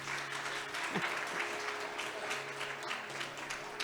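An audience claps after a Carnatic percussion ensemble performance at a Tyagaraja Aradhana music festival concert, a soft, fairly distant, continuous applause with faint tonal sounds and some murmuring underneath.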